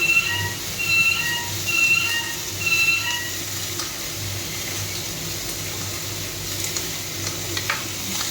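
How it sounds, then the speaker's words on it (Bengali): Katla fish curry simmers and sizzles in a pan after salt is added, a moderate, steady frying hiss with soft stirring scrapes, a faint tonal beeping pattern in the background, and no voices. "লবণটা দেবো দিয়ে নাড়াচাড়া করবো"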